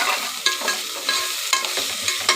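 Onions frying in a pan with ginger-garlic for a cabbage and chana dal curry make a bright, close sizzle broken by sharp scraping stirs about every half second, with no talking.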